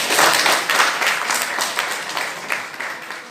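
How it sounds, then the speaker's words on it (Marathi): A lecture audience applauding together, a dense, sustained wash of many hands clapping that stays strong throughout and fades only slightly near the end. "निश्चित जोरदार टाळ्या."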